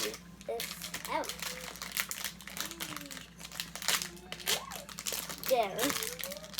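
Plastic packaging crinkles and rustles steadily up close as ball molds are cut free, with a voice chattering over the crinkling throughout.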